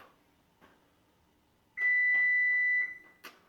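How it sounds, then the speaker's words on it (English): A kitchen timer goes off after 45 minutes of baking an apple pie, giving one steady, loud electronic tone of about a second, with soft clicks and handling knocks before and after. "45 minutes has elapsed. Timer's about to go off."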